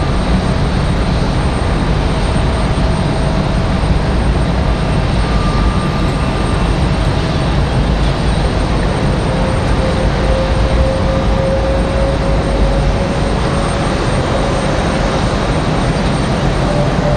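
Jet airliners idle and taxi at Raleigh-Durham International Airport, a loud, unbroken engine roar and whine with faint tonal hums drifting in pitch, heard from a distance for the whole stretch with no talking.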